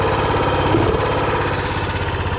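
The engine of a 2WD Roko Ranger off-road bike runs at a steady idle, a close, continuous, even mechanical drone with a rapid pulsing beat and no talking.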